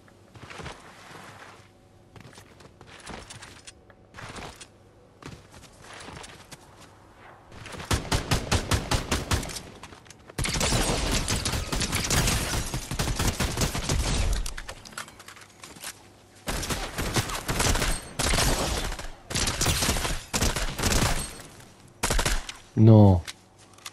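Gunfire rings out in a Fortnite match, with bursts of rapid shots and single cracks, some distant and some loud and close, spread across the stretch with quiet gaps between volleys.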